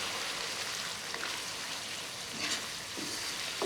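Spices sizzling steadily in hot oil in a pan for an okra curry, a dense even crackle with a few soft stirring scrapes, no talking.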